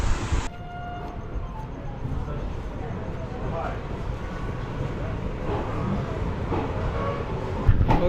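Passenger train departing Dindigul railway station in Tamil Nadu, bound for Chennai: a steady low rumble of rolling wheels and carriage noise, with a horn blast at the start and someone talking over it.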